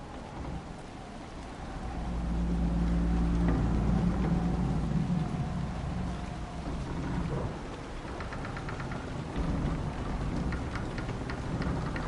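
A thunderstorm in a video game: steady, heavy rain hisses throughout while a deep roll of thunder rumbles and swells near the start, then the downpour carries on alone.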